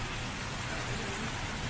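Steady rain falls in a Tagalog-dubbed Korean film scene, a dense, even hiss of drops without breaks through the short stretch, with no voices over it.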